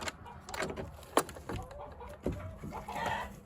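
Chickens cluck and murmur inside a backyard chicken coop near the nesting boxes, soft scattered calls with a few sharper clucks and faint rustling over the few seconds.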